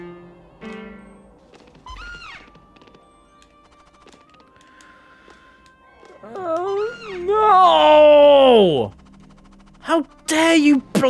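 A cat meows repeatedly in Rayman Redemption, several drawn-out, wavering cries, the loudest one long and strained, mixed with game effects and bits of talk.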